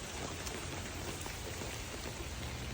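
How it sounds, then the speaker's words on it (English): Steady rain falling outdoors, a dense even hiss of drops on surfaces that holds at a constant moderate level for the whole stretch, with no voices. "The sound of rain."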